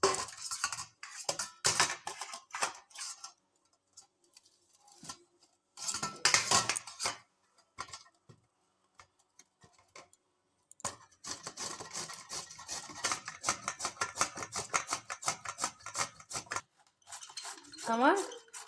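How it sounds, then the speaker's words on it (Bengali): Bottle gourd being grated by hand on a metal grater in a kitchen, giving bursts of quick rhythmic rasping strokes with pauses between, close and fairly loud, with a longer steady run of scraping toward the end. "আমার লাউ গেটার দিয়ে কুচি করা হয়ে গেছে"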